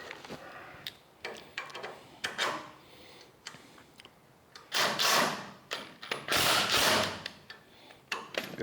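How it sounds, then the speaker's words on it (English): Thin-wall socket wrench ratcheting on the front suspension of a 1934 Ford coupe during mock-up assembly, sounding as a series of short clicking bursts with louder sustained ratchet runs near the end, close and alone. "Got to have a thin wall socket to get up in there."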